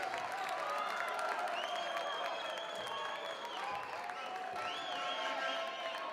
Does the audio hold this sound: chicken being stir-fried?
no